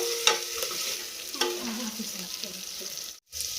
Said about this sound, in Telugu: ఈ అల్లం వెల్లుల్లి పేస్టు పచ్చి స్మెల్ పోయేంత వరకు వేయించుకుందాము